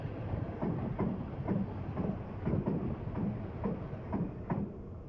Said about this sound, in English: There's a train there.